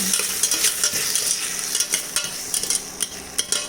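Chicken curry being stirred in a pan, a steady close sizzle broken by repeated scraping and clinks of the spoon against the metal, with no voices.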